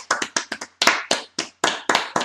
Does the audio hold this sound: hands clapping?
yes